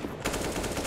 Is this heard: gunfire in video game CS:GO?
yes